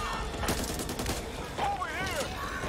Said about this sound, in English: There's firecrackers in there too.